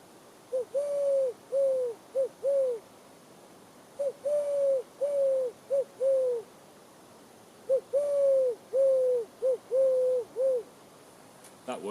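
A voice imitates a wood pigeon in winter woodland, giving three phrases of soft, hooting coos in a rhythmic five-note pattern, close and clear with quiet gaps between phrases.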